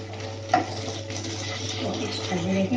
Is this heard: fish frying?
yes